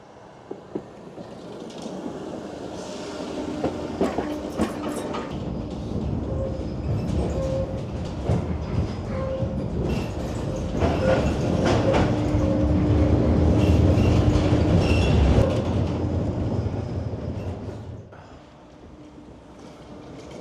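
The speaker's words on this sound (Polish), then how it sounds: "specjalnie dla nas tramwaj objedzie pętlę na Gołonogu" A Silesian tram runs around a turning loop, rumbling and screeching on the rails as it passes close by. The sound swells to a loud peak and then fades away, with no talking.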